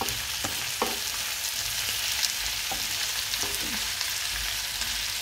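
Carrots, mushrooms and coriander sauté in a pan, a steady close sizzle with a few scraping stirs of a utensil against the pan, no talk.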